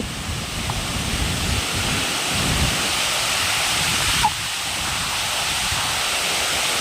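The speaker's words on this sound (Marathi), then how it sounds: "इकडून हे पाणी असं इकडून येत आहे आणि तिथून जाऊन तो धबधबा" Steady, full rushing water fills the whole clip, a dense roar from the Savdav waterfall and its feeding stream near Kankavli, with no voices over it.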